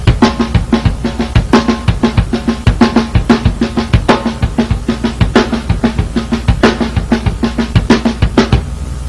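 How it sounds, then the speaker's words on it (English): A drum kit plays a steady, loud groove at close range: bass drum strokes alternate with left-hand snare hits accenting the backbeat, in an even, repeating rhythm with no talking. "Now the left hand plays opposite the bass drum."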